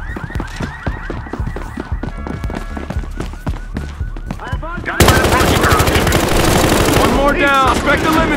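Rapid bursts of automatic gunfire crack through a Battlefield Hardline shootout, sharp repeated shots with ringing tails that give way to a denser, louder barrage midway, with faint voices mixed in.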